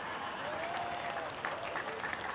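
Steady audience clapping at an Islamic sermon, fairly soft and continuous, with a murmuring crowd and faint voices underneath.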